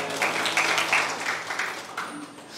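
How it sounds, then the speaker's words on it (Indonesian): A church congregation breaking into applause, a dense crowd of hands clapping in a reverberant hall, steady and fairly loud for a few seconds before tapering slightly. "Tepuk tangan, haleluya."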